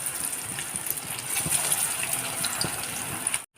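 Steady hissing sizzle of vada frying in boiling oil, a medium-loud bubbling crackle with a few sharper pops, continuous for several seconds before cutting off abruptly near the end.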